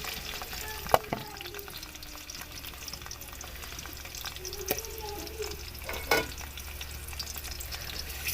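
A large onion goes into hot oil in a wok and fries with a steady sizzle, with a few sharp stirring clatters along the way and no talk over it.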